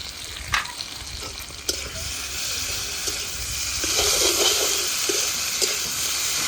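Tengra fish and potatoes fry with spices in a pan, a loud steady sizzle with occasional spatula knocks and scrapes, the hiss swelling toward the end.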